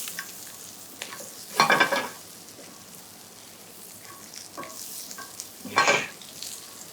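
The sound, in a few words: minced garlic frying in a pan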